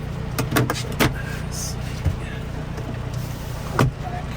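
Cab window of a John Deere 5130M tractor being opened: a few short clicks and latch knocks spaced out over a steady low background hum, close and moderately loud.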